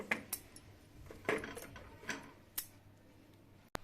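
Pieces of sweet potato set down one by one on a perforated metal steamer plate, giving faint scattered clinks and light metallic taps at an uneven pace, quiet and close.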